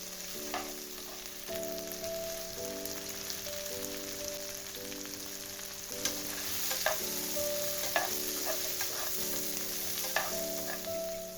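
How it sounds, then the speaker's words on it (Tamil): Shallots, garlic, ginger, curry leaves and pepper sauté in oil for a Kadaknath black chicken curry: a steady crackling sizzle with periodic sharp stirring clinks, over faint background music. "இப்போது சின்ன வெங்காயம், பூண்டு, இஞ்சி, கருவேப்பிலை, மிளகு போட்டு வதக்கிக்கலாம்."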